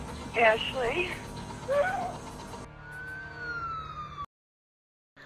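An ambulance siren wails with rising and falling tones, first under a voice talking and then on its own, fairly close, before cutting off abruptly.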